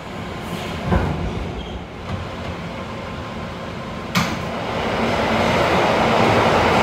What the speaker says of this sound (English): This is a Euclid Avenue-bound C local train.